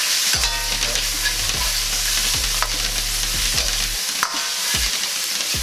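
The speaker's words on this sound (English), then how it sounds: "you want to fry this. Don't let it burn." Chilies frying in oil in a wok, a loud continuous sizzle broken by repeated rhythmic stirring scrapes of a spatula, close and alone with no talking.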